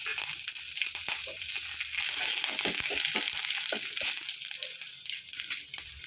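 Dry red chillies and curry leaves crackle and spit in hot oil for a Tamil horse gram kulambu, a loud steady sizzle broken by sharp pops and bursts, close up with no voices.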